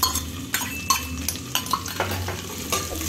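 Capsicum and softened onion fried and stirred in a pan, with repeated spoon scrapes and clinks against the metal over a steady low sizzle, close up and without talk.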